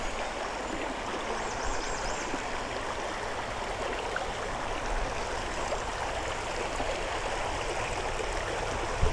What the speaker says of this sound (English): Really broken water here